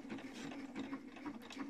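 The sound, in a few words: sewing machine stitching a hem with a wing needle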